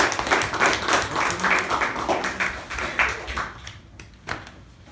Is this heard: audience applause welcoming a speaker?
yes